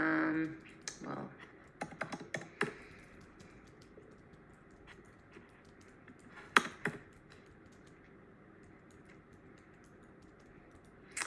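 Keystrokes on a computer keyboard during a university pathway presentation, sounding as scattered clicks and short bursts of typing, quiet and close, with some louder taps and long gaps between them.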